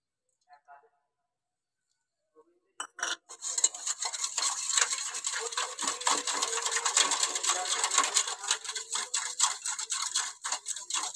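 Eggless semolina cake batter of sugar and white oil is stirred in a bowl. After a near-silent start with a few small clinks, a fast, steady scraping rhythm begins and carries on, close and fairly soft.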